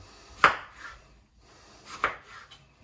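Two sharp knife chops cut the ends off washed tomatoes on a board, each a crisp knock spaced about a second and a half apart, close and distinct in a quiet kitchen with no talking.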